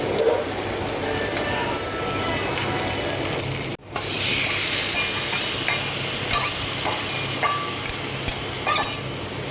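Meat being cooked and stirred in a pan on a home stove, with a steady sizzle and scraping strokes throughout, a brief break partway, and sharper clicks of the utensil against the pan toward the end.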